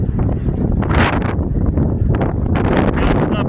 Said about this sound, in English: a 40-mile-per-hour sustained wind.